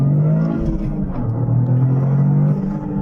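The three-cylinder engine of a Toyota GR Corolla drones under acceleration with a steady, rising hum and road rumble heard from inside the cabin, with no voices.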